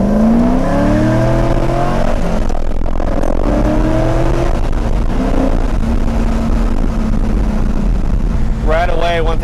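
A Chevrolet Corvette C5 convertible is driven, its engine droning and shifting in pitch under heavy wind noise, with someone talking over it and a brief rising whine near the end.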